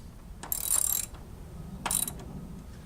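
A hand ratchet tightens a car's strut tower bar in two short bursts of rapid metallic clicking, close and clear, separated by a brief pause.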